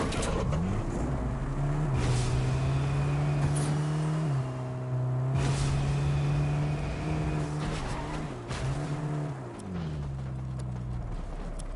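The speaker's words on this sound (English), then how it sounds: "Actually, let's take Homer's car." Homer's car from The Simpsons update driving in Fortnite, a steady engine hum that rises and dips in pitch as it accelerates and slows, with a few sharp knocks, no talking.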